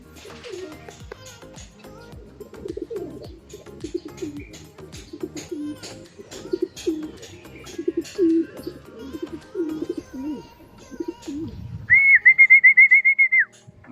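Pigeons cooing in rapid repeated bursts at a racing pigeon loft in Meycauayan, Bulacan, during a north race training arrival, close and moderately loud, followed near the end by a sharp, warbling electronic chirp.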